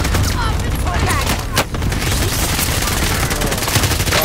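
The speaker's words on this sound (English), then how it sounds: "Allied cluster strike inbound." Cluster strike explosions in Call of Duty: Modern Warfare roar as a dense, continuous barrage of rapid blasts and rumbling booms, loud and close throughout.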